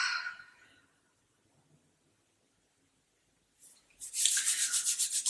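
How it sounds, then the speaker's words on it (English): Palms rubbed together during a Kundalini yoga session: a soft swish at the start, a long quiet pause, then a run of brisk, rhythmic rubbing strokes close by. "Rubbing your hands together in front of your heart center."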